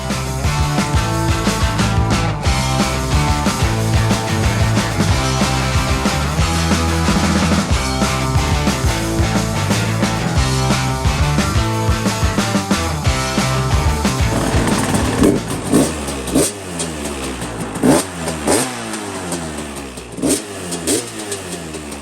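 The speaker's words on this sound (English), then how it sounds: "Bike definitely sounds a little better." Motorcycle engine with a fine-tuned exhaust, running at a steady, loud drone before breaking into a series of sharp rising revs and throttle blips in the second half.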